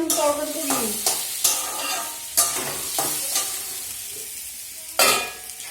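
Potatoes frying in a pan sizzle continuously while a utensil scrapes and stirs them in sharp, repeated strokes, loud and close, with no voices.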